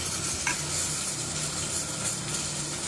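Eggplant frying in a pan gives off a constant, even sizzle and hiss with one brief clink near the start, steady and close throughout.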